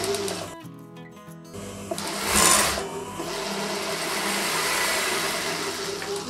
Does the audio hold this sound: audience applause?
no